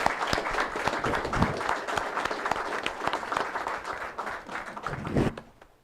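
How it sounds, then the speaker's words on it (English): A room at a county board of supervisors meeting breaks into warm applause for veterans, many hands clapping steadily for several seconds before it tapers off and stops. "let's give them all a thank you and a round of applause"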